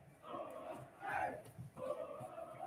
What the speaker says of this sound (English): Desco and I have to take a brief break to chant with the crowd